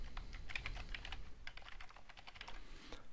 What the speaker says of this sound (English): I'm going to type in a new URL here